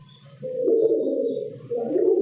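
Giribaz pigeons coo close by, a low rolling burbling call that swells, dips briefly and rises again.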